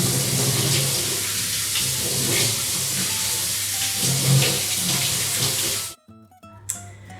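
Tap water runs in a steady hissing stream over tinned green lentils being rinsed in a kitchen sink, loud and close for several seconds before cutting off abruptly.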